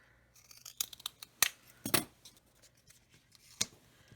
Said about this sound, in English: take a little bit of my waste chipboard and cut a little backer piece for my sticker